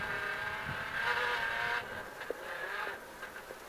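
A Jeep Cherokee with four-wheel drive turns around in a U-turn on an off-road racing course, its engine humming steadily at moderate distance, then easing off, with a couple of brief knocks and no voices.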